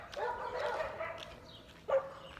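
A passing dog being walked barks a few times at moderate distance, with one sharper, louder bark near the end over light outdoor background noise.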